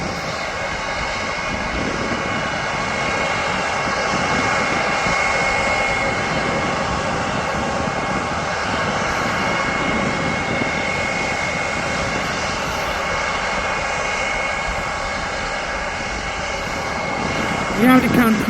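Jet airliner engines on a Belfast-bound flight spooling up for takeoff at Birmingham Airport, a loud continuous whining roar that holds steady, with a voice talking over it.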